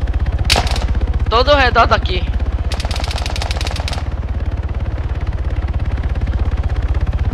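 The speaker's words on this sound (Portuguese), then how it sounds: "Tá rolando muito tiro aqui, cara." Gunfire in the military video game Arma 3 rattles in a fast, unbroken automatic stream from start to finish, loud and steady, while someone speaks briefly over it.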